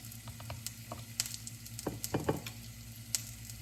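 Butter sizzling in a pan during home cooking, a soft steady frying hiss with a few louder crackling bursts and light stirring clatter, fairly quiet and close, with no talking.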